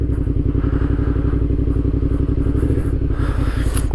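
Motorcycle engine idling close by at low speed under light throttle, a loud, steady rapid chugging pulse with a faint clatter, no voices.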